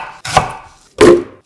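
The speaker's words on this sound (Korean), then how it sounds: "시원한 배 한 개에 껍질을 벗겨 깍둑 썰어 믹서기에 담고" A knife dices a peeled pear for kimchi seasoning, giving two crisp, close chopping strikes on a board, each with a short decaying tail.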